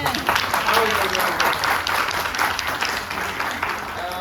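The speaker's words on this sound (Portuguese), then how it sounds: "Palmas para o professor Faraco" An audience claps for a professor at a book talk and conversation event, a dense steady round of applause with a murmur of voices mixed in throughout.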